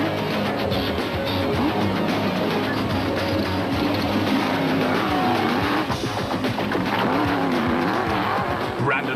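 A space frame race car roars steadily at speed during the 2008 Eastern Cape 500, its engine loud and continuous under a commentator's voice.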